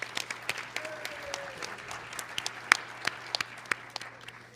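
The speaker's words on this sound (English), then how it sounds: "have everybody give a round of applause to everybody who presented today" An audience applauds the presenters at the close of an election panel session, with scattered, fairly quiet claps heard from a distance and occasional sharper individual claps.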